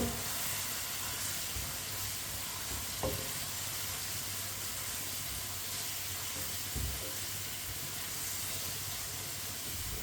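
Fenugreek leaves and potatoes fry over a medium flame while a spoon stirs them, giving a steady, close sizzle and hiss throughout with occasional light scrapes.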